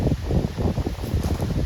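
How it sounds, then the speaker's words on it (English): Gusty wind buffets the microphone outdoors, a rough low rumble rising and falling in short bursts. "You can see it's like super windy out here."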